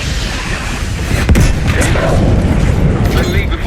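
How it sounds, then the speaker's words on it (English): Booming mortar strike impact in the Black Ops 6 campaign on Veteran difficulty, a sharp blast at about a second and a half followed by a rumbling, dense wash of battle noise with speech running underneath. "Mortar on the way."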